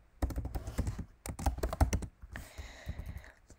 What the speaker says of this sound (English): so I'm just going to type in a text like hello world.